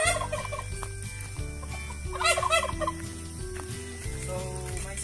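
Basilan x black Australorp crossbred chicks and poultry call close by, with steady overlapping clucks and gobble-like cries through a busy, constant background.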